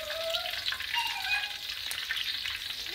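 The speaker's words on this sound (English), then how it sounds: "I'm going to just release all these aroma, you know, dump everything in and stir fry it around" Aromatics for orange peel shrimp hiss and crackle as they stir-fry in a little oil, a bright, busy sizzle with brief scraping stirs and no talking.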